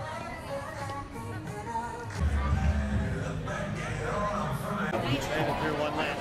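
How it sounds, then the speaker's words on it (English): Crowd of visitors waiting in line at Universal Studios Hollywood, a dense murmur of many voices with occasional louder chatter and movement, continuous and fairly close. "And this is the crowd."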